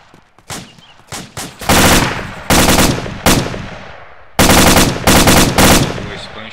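An enemy machine gun fires in the military shooter ArmA 2 ACE: several short bursts, then long, loud, sustained rattling volleys that sit close and dominate the scene.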